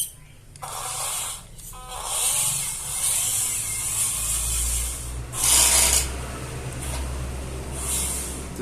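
A modified WPL C24 RC truck running on a 3S-4S battery, its rear tire rubbing against the body, gives gritty scraping bursts over a steady motor whine, loudest near the middle and again toward the end.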